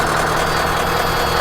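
A Scania 770 V8 heavy haulage 4-axle tractor unit idles just after start-up, a loud, steady broadband engine drone with a deep low rumble and no voices.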